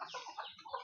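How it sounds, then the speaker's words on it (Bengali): Hen and her baby chicks on a rainy, overcast morning, clucking and high peeping chirps overlapping continuously, close and fairly clear, with no talking. "কি কিউট কিউট মুরগির ছাউ, কত সুন্দর দেখা যায়"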